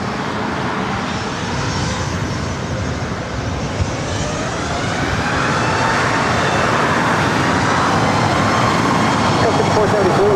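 An airliner's jet engines roar steadily and loudly on runway 24 right at LAX during takeoff, a broad continuous rumble that slowly swells in strength.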